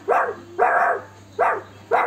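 A voice mimics a dog barking at a school welcome event, with four loud, close bark-like bursts spaced in an uneven rhythm and short pauses between them.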